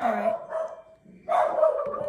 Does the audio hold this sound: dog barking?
yes